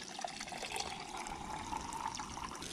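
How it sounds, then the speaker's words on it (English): Water runs through two water filters into a tank, a steady moderate flow with a tap-like fill sound and light dripping, continuous and unbroken. "Now we've got it going through two water filters."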